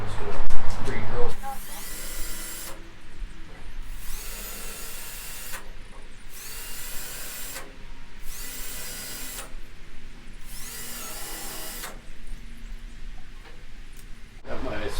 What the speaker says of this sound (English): Now I'm going to get this out. I'm just going to pre-drill.